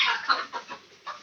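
Roosters cluck in a few short, close bursts with brief gaps between, sounding alone without talk.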